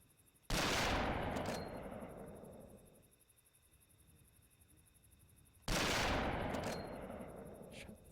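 Two loud, close rifle shots from the hunting game Cabela's African Safari, a few seconds apart, each a sharp blast with a long rumbling echo that fades out. No one talks.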